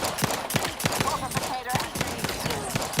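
Gunfire from The Outer Worlds 2 cracks in sharp, uneven bursts of shots, fairly loud and close, with some game voices talking through the shooting.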